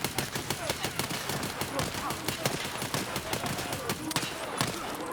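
Gunfire in the video game Escape From Tarkov: rapid bursts of automatic shots fired from the hip, a dense run of sharp cracks that keeps going throughout at moderate loudness.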